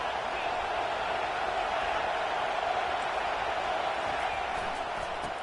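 Stadium crowd in College Football 25, a dense, constant roar with no breaks, loud and enveloping, carrying a faint hint of applause.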